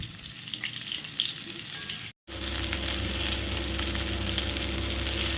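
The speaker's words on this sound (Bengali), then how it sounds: "খুব বেশি নরম করে ভাজবে না, জাস্ট একটু লাল লাল করে ভেজে নামিয়ে নেব" Eggplant (brinjal) slices frying in oil until lightly browned give a steady, close crackling sizzle that runs throughout, broken only by one brief silent gap.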